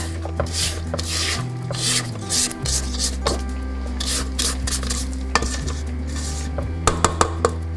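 A spoon or spatula stirs and scrapes banana bread batter with eggs in a bowl. The close, continuous rubbing and scraping carries a low motor-like hum, with a few sharp clinks near the end.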